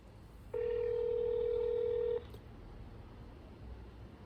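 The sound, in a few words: telephone dialing a phone number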